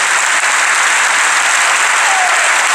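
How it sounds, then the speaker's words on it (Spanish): A large crowd at a political event in the Teatro Argentino de La Plata gives loud, sustained applause, a thick continuous roar of clapping that fills the hall at full volume with no break. "un fuerte aplauso para ustedes mismos"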